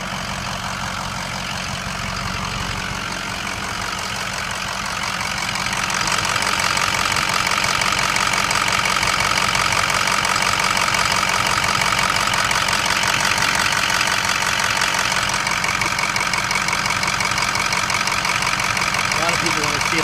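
A 2006 Ford F250 engine runs at a steady idle, a loud continuous rumble with a knocking texture that swells a few seconds in and holds, heard close up while someone talks over it.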